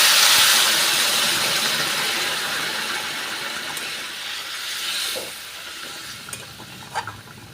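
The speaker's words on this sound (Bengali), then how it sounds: "এবার আমি গরম জল দিয়ে দেবো।" Hot water poured into a pan of rohu fish curry with potatoes and raw mango, setting off a loud broad hiss that slowly fades over several seconds into a softer simmer with a few faint clinks near the end.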